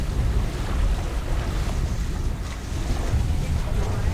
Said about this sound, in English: We're in about 15 knots of wind.